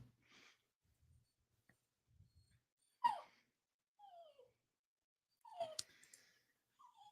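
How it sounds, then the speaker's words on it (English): Dog giving soft whimpers, snorts and a couple of short yips, faint and sparse with quiet gaps between sounds, heard alone without talk. "I'm so glad Green Bean is barking hello."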